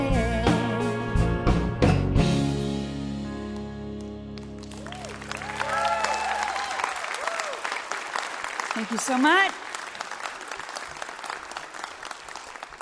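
Applause from a large, loud live crowd at a music radio show, swelling up as the band's final chord rings out and then sustaining as a dense roar; a performer speaks over it.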